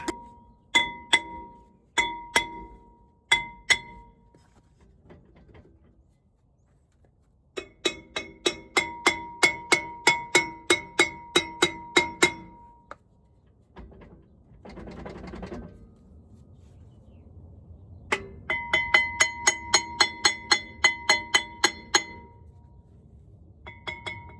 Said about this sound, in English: I'm gonna get a hammer, bang on it